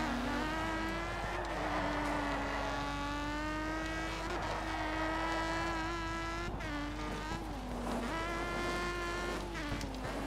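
A rally car in Dirt 2 takes a corner at speed after a tap of the handbrake, its engine whining loudly with sweeping pitch changes as it slows, shifts and accelerates again, sustained and close.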